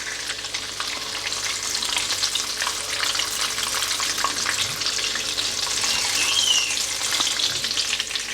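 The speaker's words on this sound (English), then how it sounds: "I'm just going to continue to fry the rest of them" Lucknowi-style Shami kebabs fry in a pan of hot oil, giving a loud, dense, continuous sizzle with faint stirring scrapes throughout and no voices.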